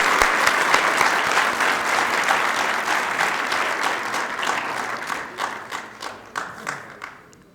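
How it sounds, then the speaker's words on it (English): Audience applause at a Pakistan National Day event, sustained dense clapping from a large crowd that gradually thins into scattered individual claps before fading out. "a big round of applause for all of those people again"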